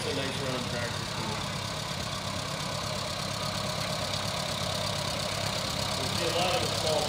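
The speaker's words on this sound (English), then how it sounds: "It's a nice run tractor too." An old tractor engine runs steadily at a steam era show, a continuous mid-pitched idling rumble heard close and fairly loud, with no break in the running.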